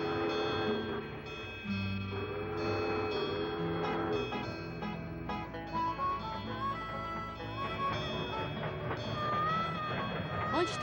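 A cartoon train rumbles along steadily with rhythmic clatter and occasional squealing metal, a continuous loud mechanical din throughout.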